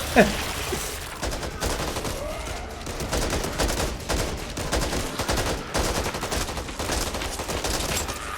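Pistol shots in the zombie shooter Back 4 Blood ring out loud and close, a long string of sharp cracks at an uneven, rapid pace under scattered game noise, with no voices.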